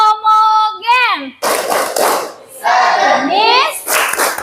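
A classroom of students performs a chanted clap routine, bursts of clapping between shouted group calls and a teacher's voice, lively and close with children talking and cheering throughout.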